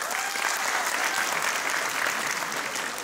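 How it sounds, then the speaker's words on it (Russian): A large concert audience claps continuously, a dense, even wash of applause held at steady volume throughout. "много же людей хлопает"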